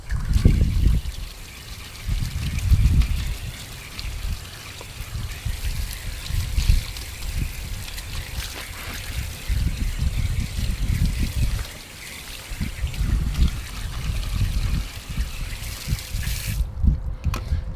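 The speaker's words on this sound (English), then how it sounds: "so now what we're gonna do is we're gonna hit it with the hose." Water from a garden hose sprays and splashes onto a tire outdoors, a rough, uneven hissing gush that surges and eases in bursts over nearly eighteen seconds.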